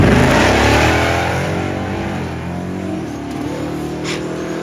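A loud car engine roars at high revs nearby during a drag strip pass, stumbling, the sound wavering and sagging unevenly as it pulls away, with no talking.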